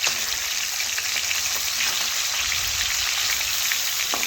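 Pieces of catla fish fry in oil in a wok for a Bengali pumpkin dish, a steady, dense sizzle that stays even and fairly loud throughout with no talking.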